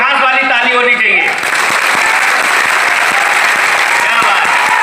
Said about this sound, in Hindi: तो अगर इतिहास बनाना चाहते हो तो एक बार इतिहास वाली ताली होनी चाहिए